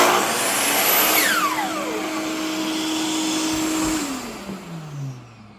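A Shop-Vac dust extractor on a miter saw station, switched by a foot pedal, roars loud and close with a high whining hum, runs steadily, then winds down with falling pitch.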